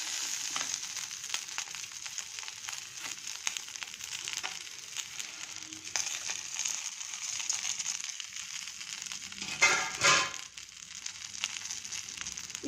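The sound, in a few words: greens, garlic and curry leaves frying in oil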